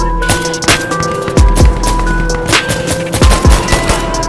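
Loud, close gunfire in a game of Insurgency: Sandstorm, a rapid series of booming shots and impacts over steady background game noise; no talking.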